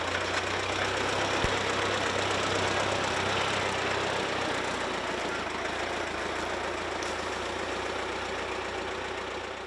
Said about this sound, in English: This is a 1905 Hornsby surface ignition engine. It runs on lighting kerosene